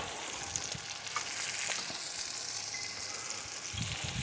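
Onions sizzle steadily in a crowded frying pan for a BBQ cube steak sandwich, a continuous close crackle with a few soft stirring bumps and no talking.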